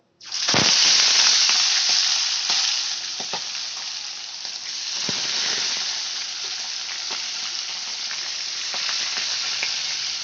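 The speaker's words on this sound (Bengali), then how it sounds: "এবার আমি এক এক করে মাথাগুলো দিয়ে ভেজে নেব" Small fish heads dropped into hot oil in a wok burst into a loud, steady sizzle that starts abruptly and keeps crackling with scattered pops, close by and with no talk over it.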